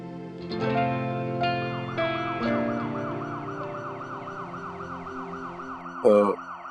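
A wailing ambulance siren sweeps up and down repeatedly, loud and continuous, with a few sharp tonal honks at the start and a bump near the end.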